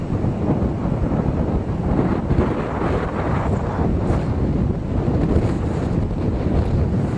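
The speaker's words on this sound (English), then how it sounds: "the winds have really picked up" Strong wind during the Waldo Canyon wildfire, with heavy smoke coming down the mountain, roars steadily and loudly, buffeting the microphone without a break throughout.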